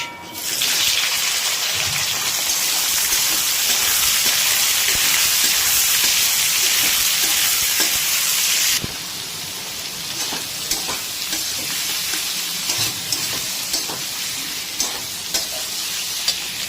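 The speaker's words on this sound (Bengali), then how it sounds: "এবার দিয়ে দিচ্ছি কেটে রাখা পেঁয়াজ।" Chopped onions drop into a pan with little oil, setting off a loud, bright sizzle that drops to a quieter, steady frying crackle with scattered stir taps, close up.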